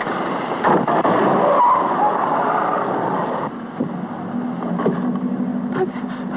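A 1938 car drives along with a steady engine and road rumble that eases slightly partway through, heard from inside at moderate loudness.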